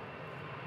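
An Airbus A320 jet airliner's engines give a steady, broad roar, a brief continuous drone from a plane recorded on an amateur camera.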